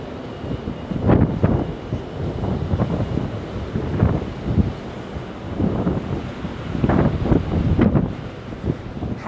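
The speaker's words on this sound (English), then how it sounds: "it is windy. She's not kidding." Strong wind buffets the microphone in gusty bursts on the deck of a cruise ship at sea, with a steady rushing roar underneath, loud and close, no voices.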